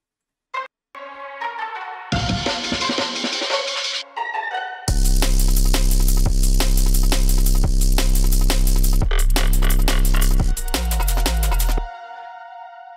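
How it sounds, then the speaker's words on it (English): A melodic synth intro, then a loud, heavily distorted 808 bass synth pounds in with a buzzing low end and sustained notes, cutting off near the end. "I'm going to be showing you how I made a distorted 808 sound"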